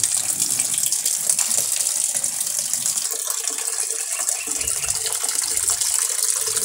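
An automatic washing machine with a replaced controller board fills with water, a steady loud gushing stream running throughout with faint mechanical clicks, no one speaking.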